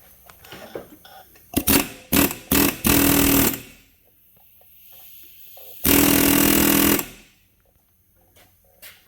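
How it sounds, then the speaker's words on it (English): A pneumatic air hammer works on a blown, stuck vehicle differential, firing in rapid rattling bursts: several short blasts then a sustained run, pausing, followed by another long loud burst nearby. "All right, so I got my handy dandy little air hammer."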